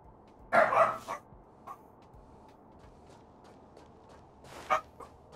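Dogs or pups barking in the video game Honkai Star Rail, two short clusters of sharp barks, one near the start and one near the end, over a quiet game background.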